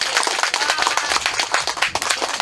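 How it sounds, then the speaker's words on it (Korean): An outdoor audience claps together at a public forum, a brisk and fairly close burst of many hands that stays steady for a couple of seconds. "자, 모두 박수 한번 치겠습니다."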